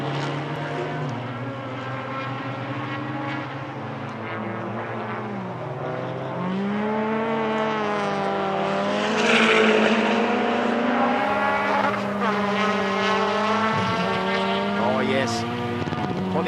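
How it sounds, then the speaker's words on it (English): Honda K-series engined race car at a time attack event at Sydney Motorsport Park, its engine revving steadily and rising in pitch through the gears, loud and sustained under a commentator's voice. "Let's listen to a bit of Meiji in the K series here."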